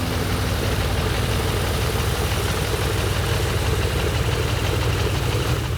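A Continental 220 radial aircraft engine idling, a steady, loud low rumble with an uneven, lumpy pulse that holds constant throughout, with no talking over it.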